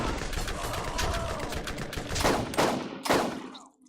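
Borderlands gunfire in a co-op session, a dense, sustained stream of shots that ends in a few heavier separate blasts before fading out.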